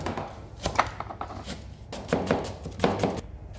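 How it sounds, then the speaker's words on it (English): A knife hacking up split leeks on a cutting board in a home kitchen, quick clusters of close, crunchy chops with short pauses between bursts, no talking. "you do the leek, split it down the middle, and then hack it up"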